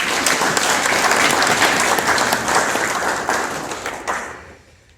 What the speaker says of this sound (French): et honnêtement, vous pouvez vous applaudir.